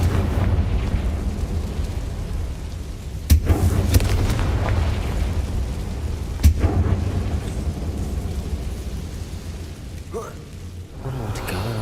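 Magical Confringo blast in the Harry Potter game world, two sharp booming bursts standing out over a dense, rumbling game soundscape with a low steady drone, a third softer impact near the end.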